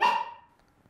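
A single sharp puppy bark rings out close and loud, then quickly fades into near silence with no voices.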